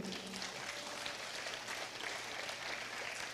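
A church congregation applauds during a worship service, a steady, dense wash of clapping that fills the room throughout.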